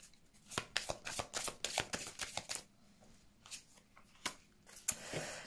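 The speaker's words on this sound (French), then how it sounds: "toutes les cartes se retournent" Tarot cards shuffled and flipped over by hand in a quiet room, a rapid run of crisp riffling snaps and flicks, then a pause and a few sharper slaps as cards are laid down and turned, close and fairly soft.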